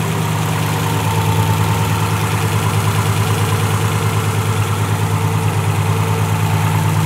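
Big-turbo Subaru STi engine idling steadily at normal coolant temperature, a loud, even low rumble with a faint rhythmic pulse holding constant and alone throughout.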